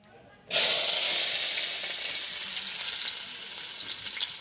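Onion and green chilies hit a hot pan and burst into a loud, steady sizzle after a brief quiet start, the dense frying hiss holding strong and close for several seconds.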